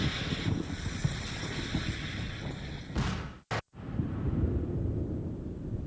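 Strong wind buffets and roars steadily across the Tacoma Narrows bridge, Galloping Gertie, a loud, broadband rush with a short whoosh and abrupt cut near the middle before the gusting resumes.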